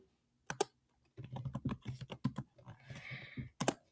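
Quick bursts of keys clacking on a computer keyboard, a couple of isolated taps followed by a rapid run of typing, close and crisp.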